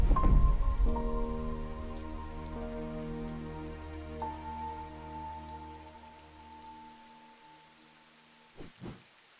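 Rain falls in the shop simulator game Strange Antiquities, a soft steady patter over sustained musical tones that fade out, followed near the end by a couple of brief low rumbles.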